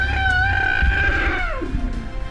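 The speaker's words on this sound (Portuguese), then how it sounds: "as pessoas ouvem o guincho de uma jovem elefanta" A young elephant squeals after a lioness attack in the wild, a loud high-pitched wavering cry that slides downward and fades near the end.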